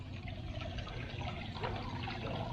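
A garden waterfall pours into a fish pond, making a steady, close splashing rush of water that holds an even level throughout, with no voices.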